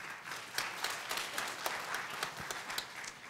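A United Methodist church congregation applauds during Sunday worship, a soft, sustained patter of many hands clapping across the room, fairly faint and even throughout.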